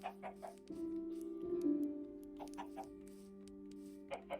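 Chickens in Minecraft cluck in short bursts over a steady background drone, with a few sharper squawks near the start and end.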